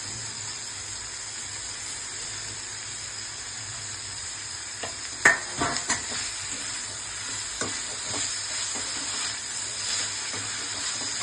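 Capsicum sizzles steadily while frying for paneer chilli, a constant close hiss of oil with a few sharp scrapes and clacks of stirring scattered through the middle.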